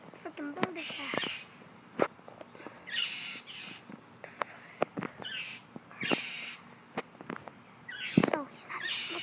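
A bird behaving aggressively calls in short, harsh, squawking bursts that repeat irregularly, some close and loud, over faint outdoor background noise.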